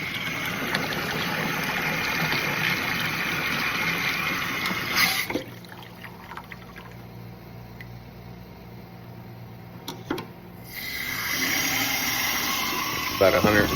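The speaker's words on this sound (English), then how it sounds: "I'm just gonna get some water in our pitcher here" Water pours from a tap into a pitcher in a donut shop kitchen, a steady broadband rush lasting about five seconds, stopping, then resuming near the end, with someone talking over it.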